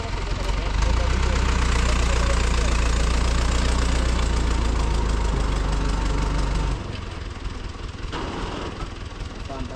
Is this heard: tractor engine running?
yes